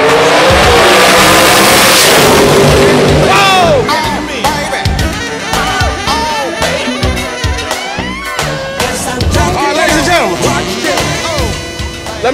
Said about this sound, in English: Here we go, let's go drag racing.